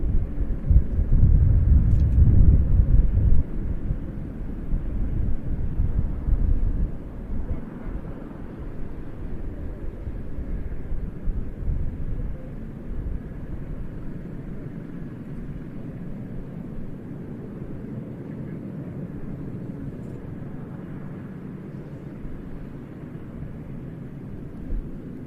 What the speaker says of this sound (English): KC-390 moving towards the hold short point